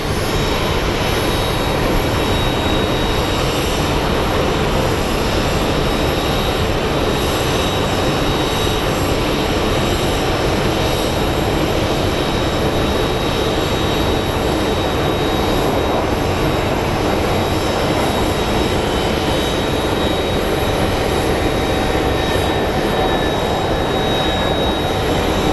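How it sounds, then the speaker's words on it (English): An American Airlines jet airliner arrives at Phoenix Sky Harbor, its engines a constant loud wash of roar and whine running unbroken throughout, with a thin high tone sitting above the broad rumble. "We have American Airlines 2865 coming in."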